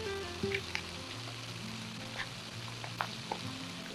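Onion and bacon fry in a camp pan outdoors, a soft continuous sizzle with a few faint clinks and scrapes, fairly quiet and without talk.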